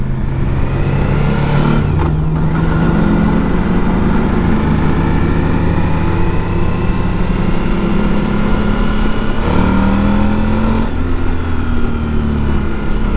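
Suzuki V-Strom DL1000 motorcycle engine droning loudly and continuously while riding, with steady rising and falling pitch as the rider accelerates and shifts, heavy wind rumble underneath.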